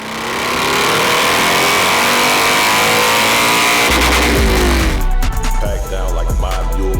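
A built Harley-Davidson motorcycle on a Kentucky road accelerates hard and loud, its engine roaring and rising in pitch, then shifting and pulling again with strong low-end rumble throughout.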